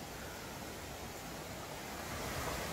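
A mountain valley stream flows steadily in autumn woods, a soft, continuous rushing wash of water heard alone at a low level.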